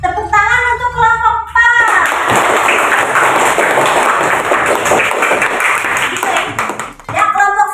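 A classroom audience applauds a student group after its presentation, dense steady clapping filling about five seconds between stretches of voices at the start and end.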